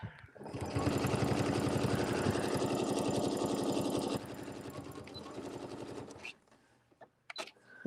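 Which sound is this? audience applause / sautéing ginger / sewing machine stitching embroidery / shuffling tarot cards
sewing machine stitching embroidery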